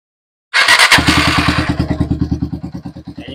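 A TMX Alpha 125 motorcycle engine with its carburetor under test fires up abruptly, then settles into a fast, steady putter of regular close-up pulses that gradually soften.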